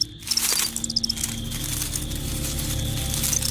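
A cricket caught in a net-casting spider's elastic silk web struggles, making a brief run of soft rapid rustling clicks near the start, then a faint steady insect buzz over low ambient hum.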